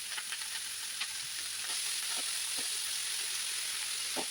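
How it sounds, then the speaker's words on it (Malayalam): Sautéing in a pan after a pinch of asafoetida goes in, for a radish-leaf dish: a steady broad sizzle of frying fills the whole stretch, with a few scattered clicks of stirring, fairly close and alone without voices. "അങ്ങനെ ഞാൻ ഇത് നല്ലോണം ഒന്ന് വഴറ്റിയെടുക്കുന്നുണ്ട്"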